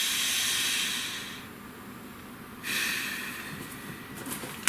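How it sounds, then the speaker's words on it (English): A person takes a deep breath, a breathy hiss of inhaling that fades, then after a pause a second airy rush of exhaling, close and fairly quiet, with no talking. "Nice deep breath."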